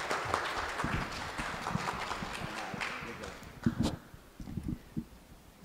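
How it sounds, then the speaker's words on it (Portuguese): An audience claps in welcome for speakers at a literary talk event, a scattered round of applause that thins out and fades into a few last claps. "pedir agora já aplausos de boas-vindas a Daniela Zupo e a Cris Guerra"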